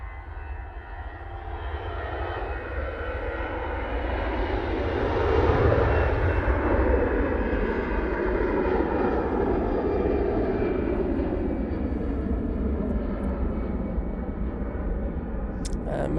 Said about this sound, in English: I think we've got EasyJet now departing. This is off to feeder using the A320-200.